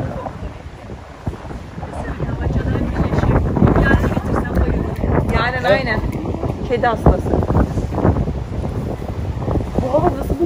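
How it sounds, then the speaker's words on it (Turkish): Strong wind buffets the microphone with a constant low rumble while a person talks over it outdoors in Zonguldak, Turkey. "Saçım başım bir karıştı ama çok rüzgarlı"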